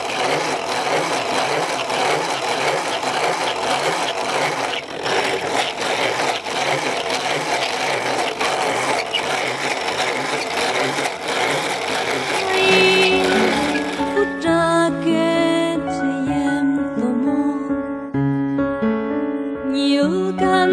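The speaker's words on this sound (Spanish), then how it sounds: "ahora vamos a moler el merquén." Merkén, a naturally smoked and toasted chili spice, ground by hand in a steady rough scraping and rubbing rhythm for about thirteen seconds before music takes over.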